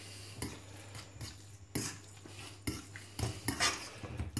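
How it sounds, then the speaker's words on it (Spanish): A utensil scrapes and clinks against a pan while potatoes with vinegar, garlic and parsley are stirred, making several sharp knocks and scraping strokes over a faint sizzle, with no voices. "Y seguimos removiendo"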